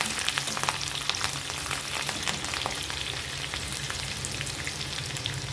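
Long-sliced green chillies crackle and sizzle in hot oil in a pan, a dense, steady frying hiss with constant fine pops up close, no talking.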